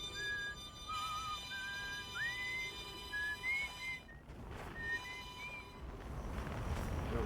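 A melodic whistled tune of short sliding notes plays in the Outer Wilds video game, clear and steady over a constant background hum, fading into rumbling noise near the end.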